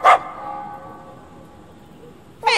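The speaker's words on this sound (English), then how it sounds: "Hey, isn't this Rita's dog?" Two short, loud dog barks from the video game Sword of the Berserk: Guts' Rage, one at the start and one at the end, separated by a quiet ringing tone.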